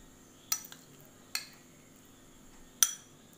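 Metal spoon clinking against a glass as basil seeds (kaskas) are tipped into a homemade Boost shake, three sharp separate taps with a quieter echo after the first, close and clear with no talking.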